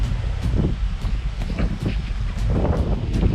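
Strong wind gusts buffet the microphone and rush through the surroundings in uneven roaring surges, loud and continuous throughout.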